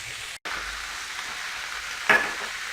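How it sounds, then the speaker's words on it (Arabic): A mixture of onion and spices fries in a pan, giving a steady close sizzle with a short gap early on and a louder burst of crackling toward the end. "نخلوه يتقلى."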